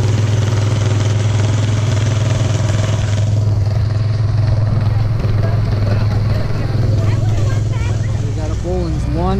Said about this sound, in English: another one of those articulating tractors, rear engine